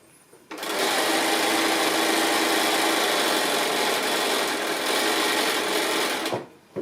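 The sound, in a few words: sewing machine sewing quilt roof piece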